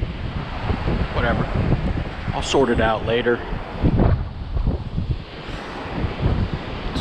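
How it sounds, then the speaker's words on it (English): Wind at the shore buffets the microphone in a constant loud rumble with a faint wash of incoming tide behind it, while a man fishing with lines in the water talks over it. "It's windy."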